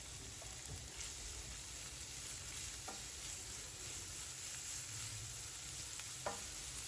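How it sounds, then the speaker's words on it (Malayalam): Finely chopped onions sauté in a pan as a white sardine dish is cooked, giving a quiet, steady sizzle with an occasional soft stir or scrape and no talking. "ഇനി സവാള നന്നായിട്ട് വഴറ്റിയെടുക്കണം"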